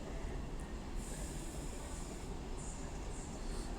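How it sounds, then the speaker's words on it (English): An Avanti West Coast Class 390 Pendolino, running from London Euston to Manchester Piccadilly, arrives at Stockport station on the West Coast Main Line with a steady, fairly quiet rolling rumble and faint high wheel squeal. "Now coming in is an Avanti West Coast Class 390 Pendolino from London Euston to Manchester Piccadilly."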